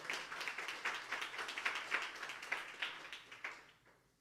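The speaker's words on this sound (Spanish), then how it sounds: "Alguien debería darle un aplauso a Cristo en este lugar." A church congregation clapping for a few seconds, soft and somewhat distant, in an uneven patter that thins out and stops near the end.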